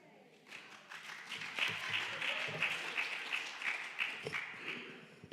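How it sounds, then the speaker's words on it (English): Scattered applause rises from a synagogue congregation at a Shabbat service, moderately faint and hall-like, with light talk mixed in underneath. "If I'm getting applause for that"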